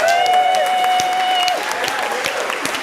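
A congregation applauds during a Shabbat service, a dense burst of many hands clapping that tapers off over a few seconds, with a sustained musical tone fading beneath it.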